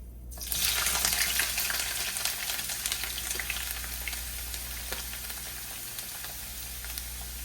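Carrots hit hot oil for Jamaican fried yellowtail snapper, setting off a sudden loud sizzle that settles into a steady, close crackling fry with light stirring.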